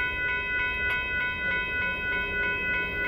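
Union Pacific 8739 freight train passing through rural Saint Elmo, Illinois, its steady rumble overlaid by sustained tonal ringing that pulses at a regular beat, moderately loud and alone.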